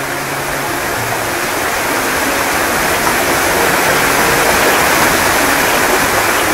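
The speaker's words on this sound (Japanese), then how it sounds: "白水の滝です。" The Shiramizu waterfall, with a 72-metre drop, roars as a constant, dense wash of rushing water, loud and unbroken throughout with no voices.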